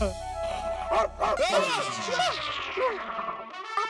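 A dog barks in a quick run of yaps and bow-wows, close and fairly loud, over an indoor scene in a comedy show.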